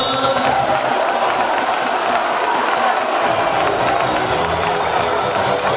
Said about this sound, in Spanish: aplauso para cuarto A.